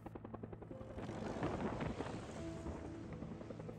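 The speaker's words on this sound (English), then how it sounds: "This is a flyby 10 feet above the pad, sight picture" Helicopter flying by about ten feet above a landing pad at a Red Bull Bullseye landing event, a faint steady rotor drone under wind noise that swells slightly as it passes.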